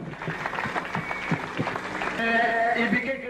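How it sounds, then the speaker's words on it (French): A church congregation claps in praise for Jesus during a crusade gathering, with scattered close claps mixed with voices and a rising mass of applause toward the end. "Applaudissez pour Jésus."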